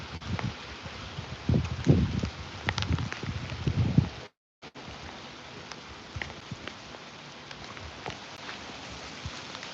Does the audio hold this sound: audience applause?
no